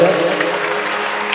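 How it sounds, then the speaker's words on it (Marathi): Applause for a young girl singing a devotional bhakti song at a stage performance, a steady wash of clapping that fills the whole short moment at even loudness. "तिच्यासाठी एकदा जोरदार टाळ्या वाजवूयात"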